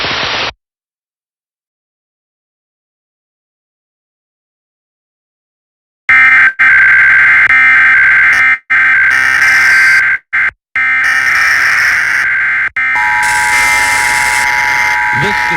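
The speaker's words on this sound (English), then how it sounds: "the attention signals you just heard" Emergency alert system attention signal on a NOAA weather radio broadcast test, a loud harsh continuous two-tone electronic blare with brief dropouts, following a short burst and several seconds of silence.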